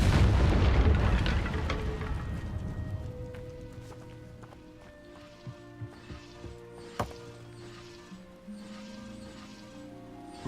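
Casting the Incendio fire spell in Hogwarts Legacy sets off a loud, roaring burst that fades over a couple of seconds. Quieter tonal game sounds and scattered soft clicks follow.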